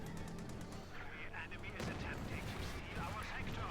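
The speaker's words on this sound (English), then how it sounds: "Oh, we got the officer calling an artillery." Artillery strike called in by an officer in the real-time strategy game Company of Heroes 2: a dense, rumbling barrage of blasts and gunfire that thickens partway through, heard faintly beneath battle noise.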